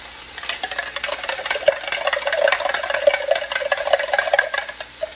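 A spoon stirs a little water into meat patties in a pan, a close, wet scraping and swishing with soft bubbling that rises and falls in uneven strokes, no voices over it.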